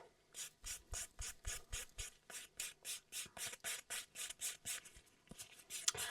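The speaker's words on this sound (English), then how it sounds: "obviously I'm buffing a top coat here" A buffer rubs back and forth over a gel top coat on stiletto nails in a steady series of quick, close, quiet rasping strokes, with no talking.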